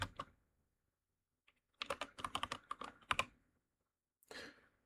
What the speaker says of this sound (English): Like I'm just typing this all in.